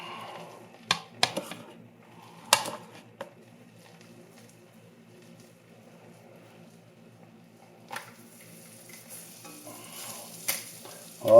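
Cabbage burgers fry in a #8 Wagner cast iron skillet with a steady low sizzle, broken by a few sharp clinks and scrapes of a utensil against the pan.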